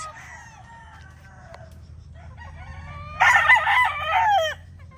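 A gray brood cock rooster crows once, loud and close. Quieter clucking and calls come before it over a low rumbling background.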